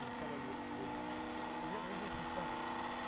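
A model XCalibur jet turbine engine spools up with a steady whining, droning tone that holds level at close range, while people talk over it.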